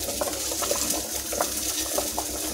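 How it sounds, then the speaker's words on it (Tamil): Water bubbles and churns in a pot, a soft steady rush with small popping bursts throughout, fairly quiet and with no voices. "பாருங்கள், தண்ணி கொதிக்குது."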